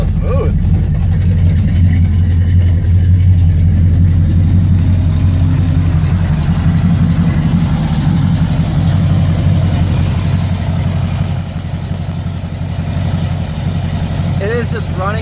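An old-school budget Oldsmobile Cutlass with a leaking valve cover idling steadily and loudly up close, a continuous low engine drone throughout, with a person speaking briefly over it.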